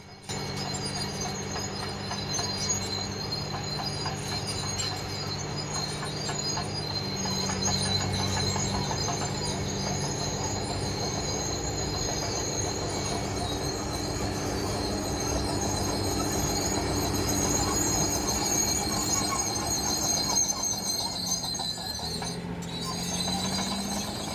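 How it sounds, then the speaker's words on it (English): Continuous grinding, squealing metallic rumble of heavy machinery tracks moving, steady and droning with occasional high squeaks, no voices. "The sound you hear is from the tracks moving."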